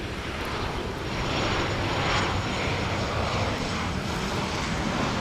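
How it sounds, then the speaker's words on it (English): An Alaska Airlines plane comes in to land at DFW Airport at night, its steady broadband engine roar swelling slightly and holding loud and continuous throughout, with no voices. "You might be able to hear a plane coming in. It's an Alaska Airlines plane."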